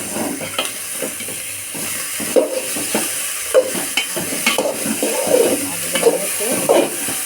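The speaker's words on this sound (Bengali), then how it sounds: "প্রথম অল্প দিয়ে ভালো করে নেড়ে এখন সবটুকু আস্তে আস্তে করে দিয়ে দেবো" Bottle gourd and shrimp are stirred in a hot pan, with steady sizzling and repeated close scraping stir strokes.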